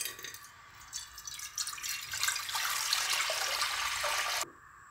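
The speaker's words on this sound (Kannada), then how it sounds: "ಮೊದಲಿಗೆ ಒಲೆಯ ಮೇಲೆ ಕುಕ್ಕರನ್ನು ಇಟ್ಟು ಅದಕ್ಕೆ ನೀರನ್ನು ಹಾಕಿ" Water pours into a pressure cooker set on a stove, a splashing stream that builds louder over several seconds and then cuts off abruptly, close and alone with no talk.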